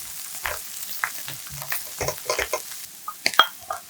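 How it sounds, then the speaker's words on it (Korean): Onion and garlic frying in olive oil in a pan over medium-low heat, heard as faint sizzling broken by irregular soft scrapes and taps of stirring, close and quiet, without any speech. "중약불에 팬 올리고 올리브유 5스푼 두르고 양파, 마늘 먼저 넣고 갈색이 돌 때까지 볶아서"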